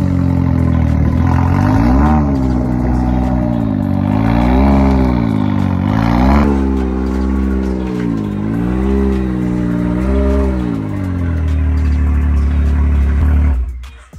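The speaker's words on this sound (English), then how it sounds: "let's put the car in" A car drives up into a toy hauler trailer, its engine revving and rising and falling in pitch as it climbs in close and loud, then cuts off abruptly at the end.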